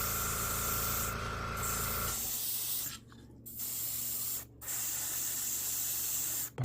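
A Gaahleri Ace Series GHAC-98D airbrush hisses loudly and close while spray painting a Gundam model kit, the continuous spray broken by a few short pauses between passes.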